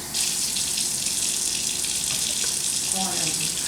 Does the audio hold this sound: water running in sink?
yes